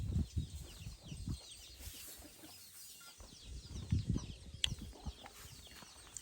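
Chickens cluck in bursts at a farm where ducks and chickens are kept, clustered near and fairly loud, with short pauses, faint bird chirps and background hiss.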